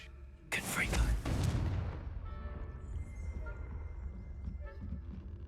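In the Hogwarts Legacy video game, a Confringo spell is cast: a sudden loud blast erupts, then crackles and rumbles away over a couple of seconds into quieter ambient game sound.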